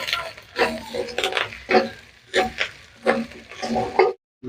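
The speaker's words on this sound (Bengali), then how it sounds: "রসুনটাকে আমি ভালো করে একটু ভেজে নেব।" Garlic paste fries in a pan, after onions, for a mango and katla fish curry. Repeated stirring strokes scrape and sizzle in a steady rhythm of loud bursts, ending in a brief silence.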